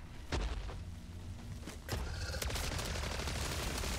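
Automatic weapon fire in the video game MW3 Zombies: a sharp burst opens, then a second, heavier volley breaks out and keeps rattling on steadily at moderate loudness.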